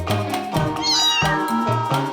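Several cats meow loudly and close up, a run of overlapping drawn-out meows with wavering pitch repeating back to back over about two seconds, with no talking.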